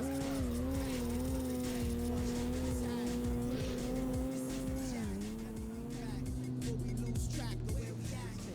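Cars racing in a 2004 street racing video game set in Los Angeles, with a loud, continuous engine drone that shifts pitch as it changes gear and tires squeal. A voice talks over it.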